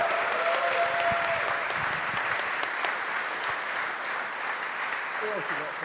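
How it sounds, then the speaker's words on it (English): Sustained audience applause fills a venue at a Music Venue Trust anniversary event, steady and dense throughout, with a faint whistle or cheer at times. "I'd like to get a massive round of applause, please, for Tony Cobrooker"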